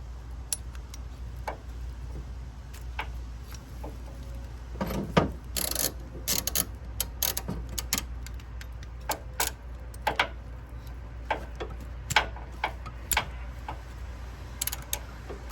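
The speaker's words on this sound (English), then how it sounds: "All right, we'll put the torque wrench on there." A torque wrench ratchets on a coolant sensor with an 18mm socket on a Trailblazer or Envoy engine, giving close, scattered clicks and short runs of ticking over a low steady hum.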